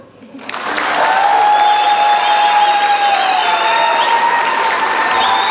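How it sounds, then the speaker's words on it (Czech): A ball crowd in Velké Bílovice gives a standing ovation after a dance performance by Dana Batulková and Jan Onder, loud applause swelling within a second into sustained clapping with cheers and whistles. "Za své vystoupení si vytančili standing ovation."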